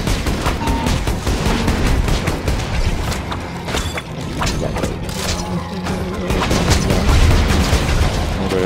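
Dense, continuous gunfire from Borderlands 2 combat, with rapid bursts and booming impacts layered over a busy game soundtrack, loud and unbroken throughout and swelling toward the end.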